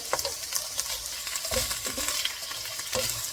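Chicken and broccoli stir-fry cooks on low heat in a pan, crackling and sizzling throughout. Spatula scrapes and stirring clatter repeat at irregular intervals.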